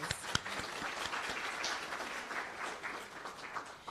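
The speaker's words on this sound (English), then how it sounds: "shall we give them a round of applause?" Audience applause for sponsors at a national science and technology medal and innovation awards ceremony, a steady wash of clapping with a few sharper claps near the start, moderately loud and sustained.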